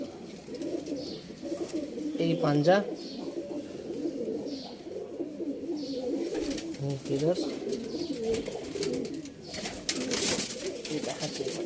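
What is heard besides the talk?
pigeons cooing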